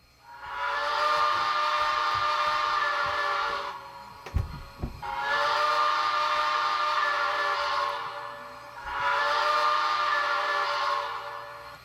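An MTH HO Cab Forward model steam locomotive with Proto 3.0 sound sounds its steam whistle in three long blasts, each about three seconds, with a few mechanical clicks between the second and third.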